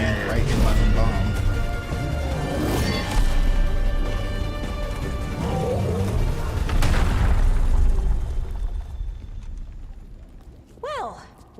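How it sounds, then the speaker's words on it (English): Bombs thrown by a character blow up in a fantasy video game, dense booming blasts packed into a busy, loud mix that fades toward the end, with a bright swooping effect closing it out. "I throw bombs and land right in my own bomb."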